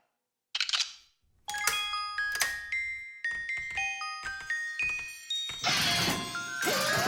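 A wind-up music box with a key plays a tinkling melody of bright plucked metal-tooth notes in a steady rhythm, close and clear, with a short whirring wind-up at the start and a louder shimmering burst near the end.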